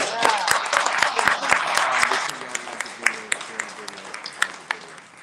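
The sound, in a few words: audience applause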